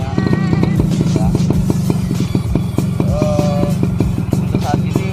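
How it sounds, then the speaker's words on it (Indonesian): An old motorcycle engine idles steadily up close, a loud, uneven putter with rhythmic clattering pulses throughout. "Kayak gini motornya, suaranya"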